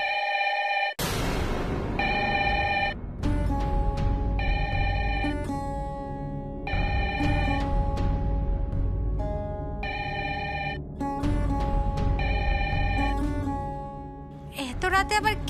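A telephone rings late at night in a Bengali TV drama household, its electronic bell sounding in repeated bursts with short gaps, loud and close, accompanied by background score.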